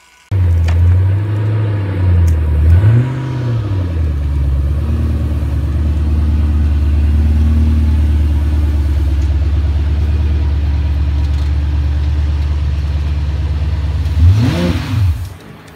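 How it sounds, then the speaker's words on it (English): A Shelby Cobra 500 engine revs up and down in loud, close surges during a ride, then settles into a steady deep drone before a final rev near the end, with no talking. "Wow, Shelby Cobra 500."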